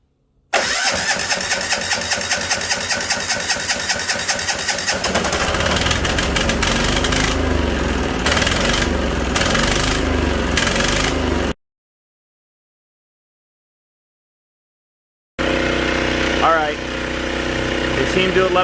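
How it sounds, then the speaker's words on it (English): A small engine on a lightweight independent power system, just purged of air in its fuel line, cranks and fires, then settles into a loud steady idle, cuts out briefly to silence, and resumes running. "Alright, we'll try to start again."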